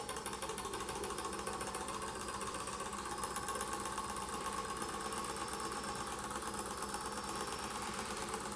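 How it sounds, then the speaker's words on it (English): Weeden 14 toy steam engine running smoothly in a fast, even mechanical chatter with a constant hum, steady and close throughout with no talk. "They just run so smooth, these Weedens."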